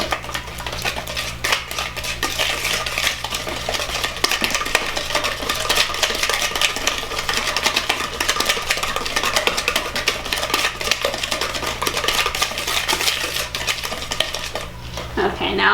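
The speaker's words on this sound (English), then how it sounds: "This is the oil. And then the vanilla. I'm going to whisk that together." Oil and vanilla are whisked in a bowl with a rapid, continuous metallic tapping and scraping, loud and close for the whole stretch.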